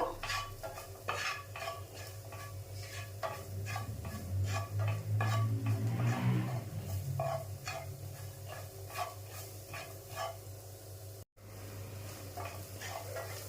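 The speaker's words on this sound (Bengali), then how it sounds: "এটা নাড়া দেব" A spoon stirs turmeric powder and spices in a pan on the stove, making repeated metallic scrapes in a steady rhythm over a constant low hum and a soft sizzle, close and fairly loud, with a brief dropout near the end.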